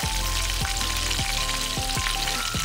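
Chicken breast deep frying in oil over a low flame and being turned over, giving a loud, steady sizzle with several dull knocks and clatters as the pieces are moved.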